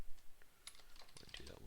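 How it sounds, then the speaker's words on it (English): Quick keystrokes on a computer keyboard while entering a target into a Zenmap network scan: a short burst of close, crisp clicks. "So if I type here"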